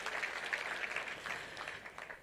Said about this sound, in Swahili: Mheshimiwa Gishohe, mpigieni makofi.